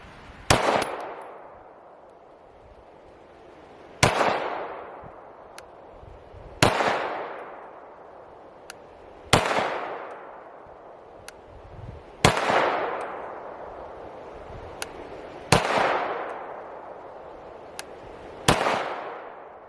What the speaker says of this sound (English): This gun is shooting phenomenal.